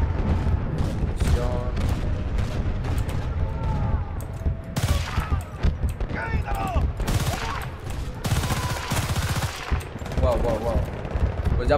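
Rapid bursts of gunfire in Battlefield: Bad Company 2 crackle repeatedly, with automatic fire and louder booms in quick clusters, loud and close.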